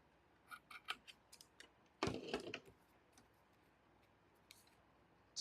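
Scissors snip excess paper off a handmade card, a few light ticks followed by one crisp, close cutting stroke in an otherwise quiet room.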